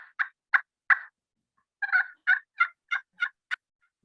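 A slate turkey call is worked to produce a yelp sequence of about ten sharp, clear, evenly spaced notes in two bursts with a short pause between, close and moderately loud with no talk, imitating a turkey hen.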